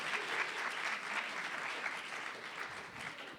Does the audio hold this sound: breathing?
no